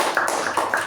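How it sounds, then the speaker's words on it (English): A few quick hand claps sound close by in under a second, a brief burst of applause at a meeting for the Sergeant at Arms. "Let's give a round of applause to our Sergeant."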